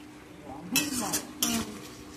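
A spoon scrapes and clinks in a pan while prawn-stuffed pointed-gourd dolma is stirred with garam masala powder, two short metallic strokes over a soft sizzle, close and moderately loud.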